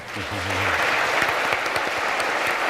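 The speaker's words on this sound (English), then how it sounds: "right now, let's get all of our applause in for our 2 presenters, Matt Dillahunty and Dr. Braxton Hunter" Audience applause at a public debate on whether the Christian God exists, welcoming the two presenters. Dense, steady clapping from a large crowd fills the whole stretch, with a brief low voice at the very start.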